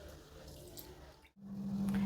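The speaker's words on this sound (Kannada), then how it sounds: "ಒಂದು 2 ಸಲ ತೊಳೆಯೋಣ." Tap water runs steadily as soaked grains are rinsed for an old-style fenugreek dosa batter, a close rushing wash that dips briefly, then resumes louder with a humming tone.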